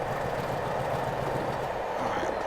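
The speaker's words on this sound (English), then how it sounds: "Passing trains hype." A train passing on the Portsmouth Direct Line in a train-simulator game, a steady broadband rumble and rush of rail noise holding level and fairly loud throughout, with no talk.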